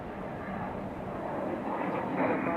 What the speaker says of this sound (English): Southwest 2210, runway 23 left for the land